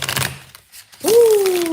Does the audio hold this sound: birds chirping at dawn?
no